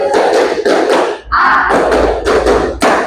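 A class of students claps a four-beat pattern, sharp bursts of hand claps repeating in groups with a brief pause in the middle, loud and close.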